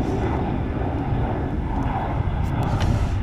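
A fixed-wing airplane flies low near Marignane airport, its broad engine roar loud and continuous, with a voice speaking faintly beneath it.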